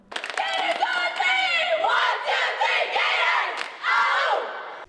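The Sacred Heart Prep girls' cheer team shouts a loud, rhythmic cheer in unison, with sharp chanted phrases and brief pauses between lines, close and energetic.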